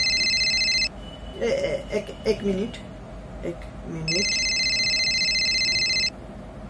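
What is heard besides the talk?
telephone ringing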